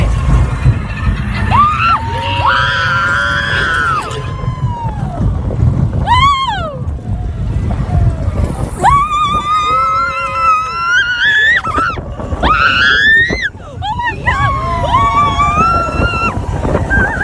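Riding the Slinky Dog roller coaster brings constant rushing wind roar, overlaid with riders' loud screams and whoops rising and falling throughout.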